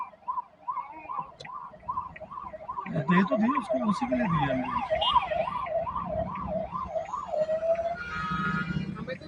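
Ambulance siren on a mountain road in the Spiti region between Rekong Peo and Tabo, wailing in a rapid rising-and-falling pattern that grows nearer and then fades, over vehicle rumble while people talk nearby.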